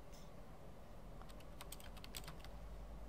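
Typing on a computer keyboard in The Longest Journey video game: a quick run of faint, crisp key clicks in the second half, set over a low steady hum.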